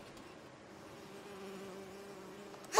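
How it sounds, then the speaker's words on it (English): A bee buzzing in Bioshock Infinite, a faint, thin, steady drone hovering nearby for a few seconds before a sudden loud burst cuts in at the end. "Why is there a fly? Oh,"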